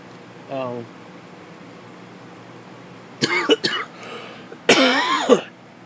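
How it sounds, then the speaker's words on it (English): A man gives a short throat-clearing cough, followed by two louder, harsher coughs up close, with quiet room noise between them. "I just fucking cough, dude."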